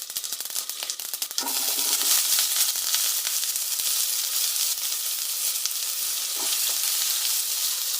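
Chopped tomatoes, mustard seeds and fenugreek sauté in a kadai, tipped in with a quick clatter that bursts into a loud, sustained crackling sizzle with a couple of light stirring scrapes.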